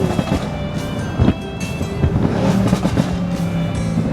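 A rebuilt Mercedes-AMG C63s, a 600hp+ car, on its first drive, its engine loud and close as it pulls away, with bursts of acceleration rising over steady road noise.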